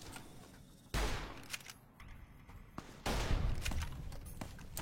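Gunfire from a player's favourite weapon in a video game, with bursts of rapid shots separated by brief gaps, moderately loud within the game's mix.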